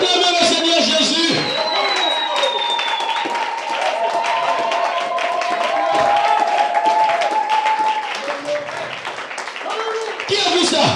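A church congregation claps and cheers together in a steady, loud wave of applause with shouts and whoops. A voice carries over the crowd, and a high sustained tone, likely music, runs underneath.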